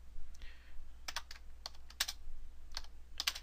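Keys clack on a computer keyboard while an array formula is entered in Excel VBA, a run of separate, fairly close strokes with brief pauses and a steady low hum beneath, no talking.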